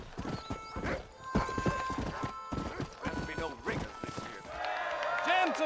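Horse hooves clop unevenly in Red Dead Redemption, with a whinny and some clattering mixed in, close and fairly loud under intermittent voices.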